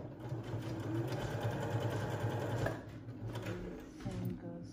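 A sewing machine stitches a homemade cloth face mask, a steady rapid mechanical whir running close up for most of the stretch, briefly pausing and restarting near the end, with no talking.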